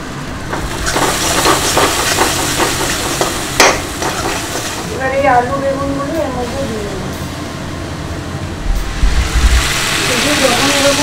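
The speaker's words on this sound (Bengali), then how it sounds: "সেই সর্ষে বাটা জিরে বাটাটা কড়াই দিয়ে খুব ভালো করে কষে নিতে হবে।" Mustard and cumin paste is stir-fried in a wok, giving a steady close sizzle with frequent spatula scrapes and stirring knocks throughout, while a voice speaks briefly partway through.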